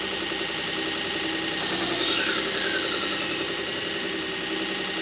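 A knife is sharpened on a powered grinder that whirs steadily, rising briefly into a high grinding squeal as the blade meets the wheel, then settling back.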